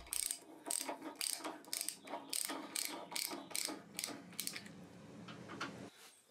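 A ratchet clicks in repeated bursts, about a dozen quick runs of metallic clicking, as bolts are tightened on an old bandsaw during restoration. Close and fairly loud, with no talking.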